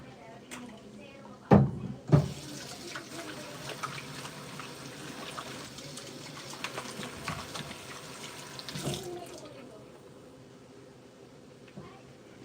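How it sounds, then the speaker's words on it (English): Kitchen tap water pours steadily for several seconds during hand washing, with a couple of sharp knocks just before the flow starts and softer clatter toward the end. "Let's wash our hands."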